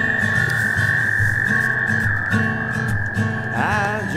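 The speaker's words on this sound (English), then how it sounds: "there's a bunch of singing frogs" Many frogs croak and trill together at a pond, a dense continuous chorus of pulsing calls layered with insect-like chirping, close and steady throughout.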